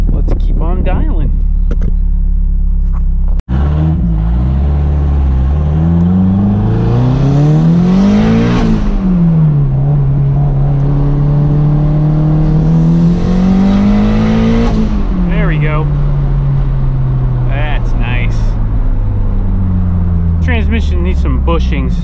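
Tuned Toyota MR2 engine revving hard from inside the car, climbing in pitch then dropping at slow, deliberate gear changes, loud and continuous with a brief sharp click near the start and no talking.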